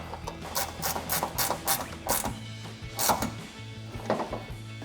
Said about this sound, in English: I'm gonna be taking this angled ratcheting wrench to tighten that the rest of the way down.